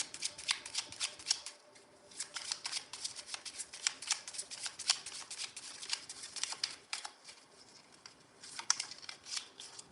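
Tarot cards shuffle in quick papery riffles and flutters, close and fairly soft, in steady repeated runs with brief gaps.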